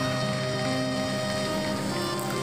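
Heavy rain pours steadily in a dense, constant roar with no pauses, close and loud, on a rainy night.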